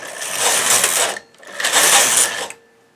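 A knitting machine carriage slides across the needle bed while knitting a lace baby beret, making two loud, steady whirring passes of about a second each with a short pause between them.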